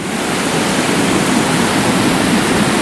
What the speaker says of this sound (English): Look at that, the waterfall's coming down there.